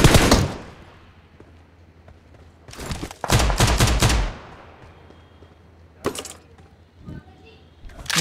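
Gunfire in a BGMI battle-royale match around Pochinki: several short rattling bursts of automatic fire, loud and close, with quiet gaps between them and a few single sharp shots near the end.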